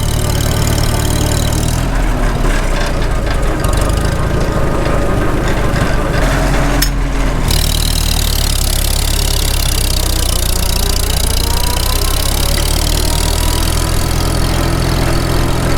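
A Farmall H tractor engine runs after a cylinder sleeve repair, a loud, steady, close idle that throbs low, with a brief rougher surge early on.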